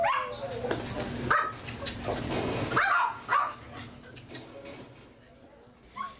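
Rescued puppy mill dogs, including Bichons, Dachshunds and Poodles, at an animal shelter bark, yip and whimper in a noisy cluster that fades toward quieter scattered yelps, with a voice speaking over part of it.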